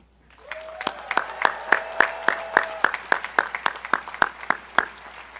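A commencement audience at Davidson College applauds its faculty, with a dense crowd of claps and sharp peaks recurring about every third of a second, loud and steady across the whole stretch.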